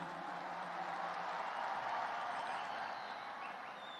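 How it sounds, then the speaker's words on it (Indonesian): Large outdoor crowd at a NasDem party rally applauding party chairman Surya Paloh, a broad, dense wash of clapping and crowd noise that holds steady and fairly loud before easing slightly at the end. "Kita beri tepuk tangan untuk beliau."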